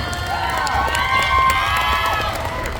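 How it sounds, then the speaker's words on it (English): A pinup pageant crowd at a tattoo convention cheers and applauds a contestant: a steady, loud wash of whoops, shouts and clapping that holds for the full stretch. "Round of applause for Miss Quesa Diva."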